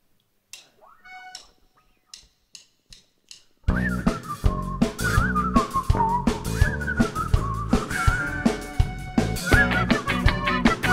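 A concert crowd whistles along to a song, starting with a few thin, separate whistles from a lone whistler and then swelling into a loud, continuous sweep of many voices whistling together over steady rhythmic beats.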